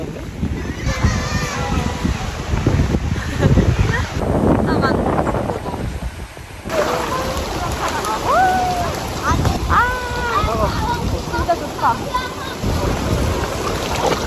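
Wind gusts rush steadily across a beach on a trip to Da Nang and Hoi An, Vietnam, with the sea close by, a loud broadband roar under people talking and exclaiming.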